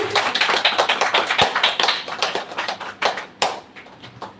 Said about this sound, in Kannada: ಜೋರಾಗಿ ಕೈ ಚಪ್ಪಾಳೆ ಕೊಡಬೇಕು.